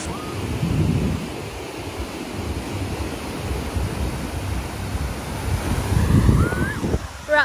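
Surf breaking on a beach in Phuket, Thailand, a steady wash of waves with wind rumbling across the microphone, swelling louder near the end.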